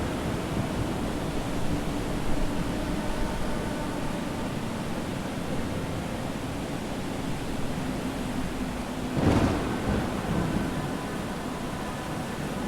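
A storm far out at sea in the far north roars steadily with wind and surf-like rushing, broken by one brief sharp crack partway through, with no voices.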